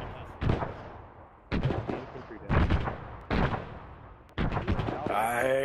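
Heavy gunfire and cannon blasts from a war video game set around a T-34 tank, several loud separate bursts booming and decaying over about five seconds, with a final sustained ringing burst.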